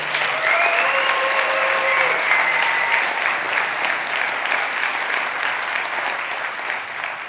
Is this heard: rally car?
no